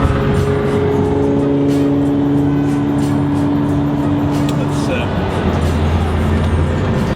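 A car cruises by close at hand, its steady, loud engine drone holding for the whole stretch without revving up.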